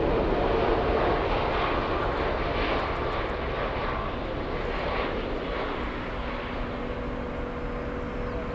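A passenger airplane landing on runway 25 center at Frankfurt airport gives off a continuous broad engine roar, loud and sustained throughout, slowly fading slightly toward the end with no voices.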